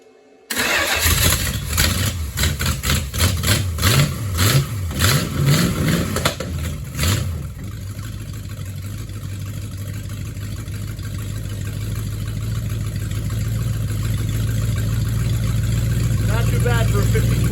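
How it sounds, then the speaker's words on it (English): A 54-year-old 1970 Challenger 318 V8 on an engine stand, with a cheap carburetor and a fuel leak, cranks with a rhythmic starter whir, catches and settles into a loud, steady idle that builds slightly. A voice is heard briefly near the start. "Bad for a 54-year-old engine with an oil change and a Chinese carburetor and a massive fuel leak"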